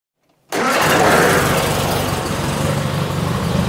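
A Triumph Spitfire with fresh spark plugs, suffering from rough running, catches instantly after a brief silence and settles into a loud, steady idle close by.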